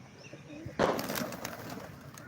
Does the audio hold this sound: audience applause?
no